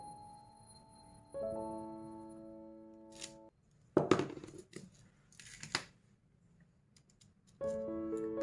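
Scissors snip through a thin 18K gold plated chain, a few sharp close cuts and small rustles between stretches of steady background music.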